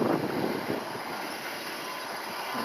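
A heavy stone lorry leaving a working quarry rumbles past at a distance with a low engine drone, steady and fairly loud, wind noise sweeping over the microphone.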